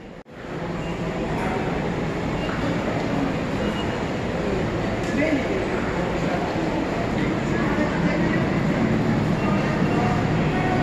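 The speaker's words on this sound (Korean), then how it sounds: "오늘 탈 것은 여기 신케이세이 전철이다." A Shin-Keisei electric commuter train in Japan runs with a loud, steady rumble and rolling wheel noise that fills the whole stretch, close and continuous.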